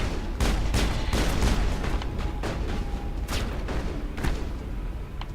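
Repeated gunfire in the Mass Effect video game, with a dense run of shots and bursts of varying loudness filling the whole stretch, set against a rumbling game soundscape.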